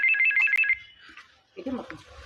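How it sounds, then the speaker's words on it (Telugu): A bright electronic ringtone trills in a quick repeating melody, then stops, and a person begins talking shortly after. "ఒక్క నిమిషం ఆగండి ఫోన్ వస్తుంది"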